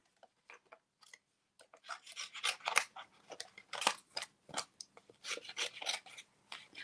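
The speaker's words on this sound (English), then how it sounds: "I am going to fussy cut these ones instead of cutting them out" Small scissors fussy cutting around stamped paper pieces for a handmade card, with quick close snips and rasping slices in uneven bursts, quiet and without talk.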